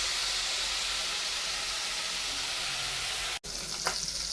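Meat browning in a hot pan for Norwegian lapskaus, a steady close sizzle and crackle running on without pause, then a brief cut before the frying resumes with a few sharper spits.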